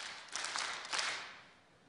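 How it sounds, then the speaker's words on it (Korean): A church congregation at a Sunday service at Manna Church claps the 'Daehan Minguk' rhythm: a short, distant burst of group clapping that fades quickly into quiet. "대한민국 한번 박수해 보세요"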